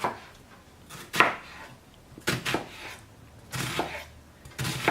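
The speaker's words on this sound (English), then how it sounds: "I'm gonna chop my onions now." Onions are chopped by hand with a knife on a cutting board for cheese enchiladas: a handful of sharp, close knife strikes come in uneven clusters with quiet gaps between them.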